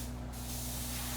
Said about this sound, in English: it won't tear up your insulation that you're spraying in